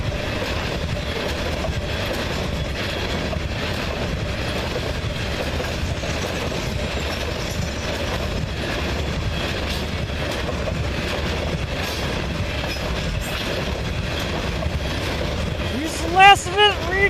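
A long CN potash freight train rolls by near Ladysmith with a steady rumble of wagons and faint rhythmic wheel clatter, and a sharp squeal rises near the end.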